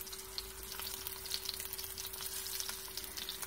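Salmon fillet pan-searing in a hot pan, a steady, even sizzle with fine crackling pops throughout, moderately quiet and constant with no voices.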